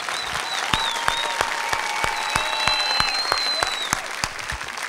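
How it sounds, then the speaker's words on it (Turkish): Steady applause from a studio audience on a 2007 Turkish TV variety show, with sharp individual claps standing out near the front and faint tonal music or voices running underneath. "Benim arkadaşlarımı da bir alkışlarsanız."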